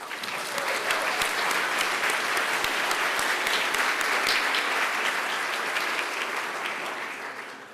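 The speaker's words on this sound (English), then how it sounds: "Can we please give them all a round of applause?" An audience at an awards ceremony at an art museum claps steadily in sustained applause, a dense wash of hand claps that holds at an even level before tapering slightly at the end.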